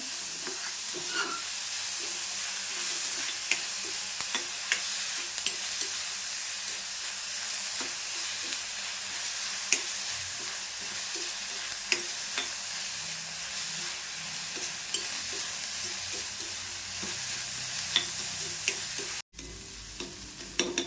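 Onion frying until soft for a Malvani-style monsoon wild-vegetable bhaji, a steady close sizzle with occasional stirring scrapes running throughout, briefly cut near the end.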